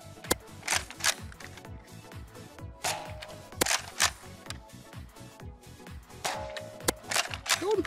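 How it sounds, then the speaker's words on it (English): A Zuru X-Shot Chaos Meteor toy blaster fires six rounds of foam ammo on flat ground, each shot a sharp snapping pop spaced about a second apart, with soft handling clicks and mechanism noise between them. "Six rounds, flat, with the included X-Shot ammo."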